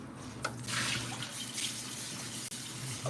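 Fresh purified water runs steadily from a tap, a continuous close splashing hiss with no pauses and no voices.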